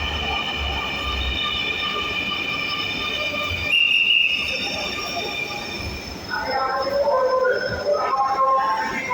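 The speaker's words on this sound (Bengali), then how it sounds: "আরেকটি রেল চলে এসেছে" A Dhaka metro rail train pulls into a station, its steady rumble and high wheel squeal running throughout with a brief louder screech midway, while station noise and some indistinct talk sit underneath.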